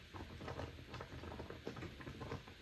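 Quick rolled-oat porridge boils in a pot on the stove, giving a steady, dense bubbling and soft popping patter that continues throughout at moderate loudness with no voices.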